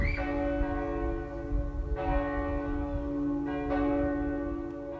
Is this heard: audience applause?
no